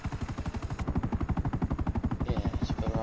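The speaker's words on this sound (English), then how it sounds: "that's how you turn this helicopter" A helicopter in GTA Online, heard during a Doomsday heist mission, gives a steady, loud rhythmic rotor chop with a whining engine hum, pulsing continuously from start to end with no speech over it.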